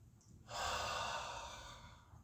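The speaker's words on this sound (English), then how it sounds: "this is like a type of what's called bellows breathing" A person doing a seated chair exercise takes one deep, forceful bellows-style breath, a loud rushing inhale-exhale that swells suddenly and slowly fades, close to the microphone.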